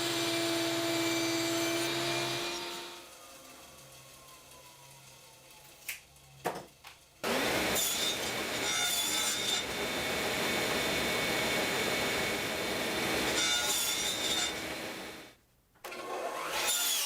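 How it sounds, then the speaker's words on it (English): A radial arm saw whines as it cuts wood lath strips, a loud motor hum spinning down, short sharp cutting bursts, then a long steady roaring pass through the wood before stopping. "Take it to the radial arm saw. You saw me cut those."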